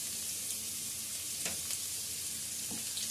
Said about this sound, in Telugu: ఇది కాస్త వేయించుకుందాం.